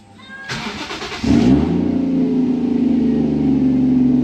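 A Toyota JZX100 Mark II's engine cranks and catches, then settles into a loud, steady high idle that keeps droning close by.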